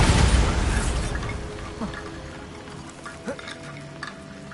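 A Bombarda blast spell from Hogwarts Legacy booms loudly at the start, then its rumble decays over a few seconds, with a few small pops and ticks afterward.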